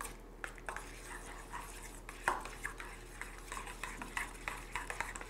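Crab cake mixture of shallot and hot sauce being stirred in a bowl, soft scraping and light tapping strokes in an irregular rhythm, quiet and close.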